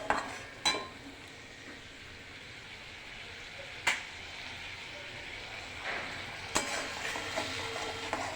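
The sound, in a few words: sautéing spice paste (masala) in a pan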